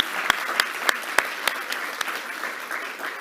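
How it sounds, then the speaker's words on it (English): Audience applause at a public conversation event, a thin spread of clapping with a few sharper individual claps standing out near the start, fading to a steady low patter. "So let's give a big applause for them."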